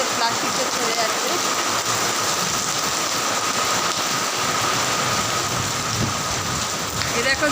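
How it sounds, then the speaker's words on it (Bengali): Heavy rain pours down in a steady, loud roar while gusty storm wind sweeps through, the downpour continuous and close from start to finish with no let-up. "ভীষণ বৃষ্টি হচ্ছে, হাওয়া ছাড়ছে, তার সঙ্গে সঙ্গে ঝড় হাওয়া।"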